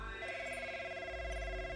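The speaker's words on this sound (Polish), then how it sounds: "Telefon, kurwa." A telephone rings with a bright, warbling electronic tone, repeating in quick pulses at fairly low volume, alone without talk.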